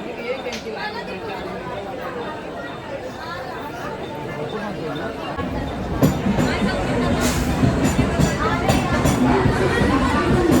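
Dense crowd chatter and babble on a packed railway platform at Chhatrapati Shivaji Maharaj Terminus in Mumbai, a steady murmur of many voices that swells louder and busier midway with scattered shouts and footsteps.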